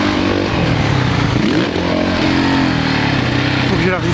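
A 450 dirt bike rides through sand, its engine droning loudly and steadily throughout with rising and falling revs, while a voice speaks over it.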